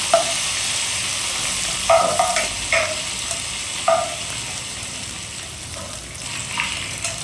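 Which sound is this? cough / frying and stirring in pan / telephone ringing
frying and stirring in pan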